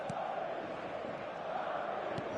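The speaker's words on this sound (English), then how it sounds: "this place is living up to its reputation as one of the noisiest corners of the footballing world. No decibels spared in this collective chorus." Dense, steady roar of a football stadium crowd in a video game, cheering and chanting as one continuous wall of noise throughout, with no individual voices standing out.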